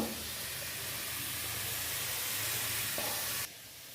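Potato pieces frying in oil in a home kitchen pan, a soft, steady sizzle with a faint low hum underneath that drops away abruptly near the end.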